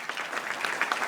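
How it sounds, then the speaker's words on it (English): Steady audience applause fills a keynote hall at a tech conference, a dense wash of clapping from a sizeable crowd, fairly distant and even throughout with no talk over it. "So give the Rentlio engineers a round of applause."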